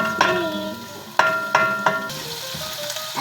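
Adobong sitaw (string beans) being stirred in a hot pan: a constant sizzle broken by several bright metallic clinks of a utensil against the pan, spaced unevenly, close and clear.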